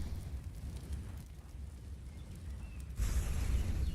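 A grenade blast in Counter-Strike during a professional match: a low, rumbling background gives way to a sudden loud, broad explosion near the end that lingers as a dense roar.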